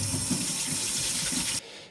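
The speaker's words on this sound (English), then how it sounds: "we've got 1 cup of jasmine, and obviously always wash your rice" Water rushes steadily over a cup of jasmine rice being washed in a kitchen, then cuts off abruptly near the end.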